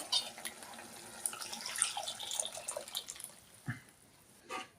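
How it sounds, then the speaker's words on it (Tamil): Mutton stock pours and splashes into a pot in a steady, close stream, then trickles off, with a couple of soft clunks at the end. "அந்த மட்டனோட தண்ணி நம்ம ஊற்றிக்கலாம்."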